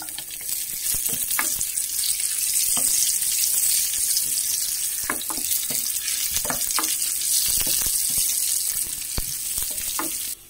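Red onions frying in a saucepan, a close, steady sizzle with crackling pops throughout, no talk.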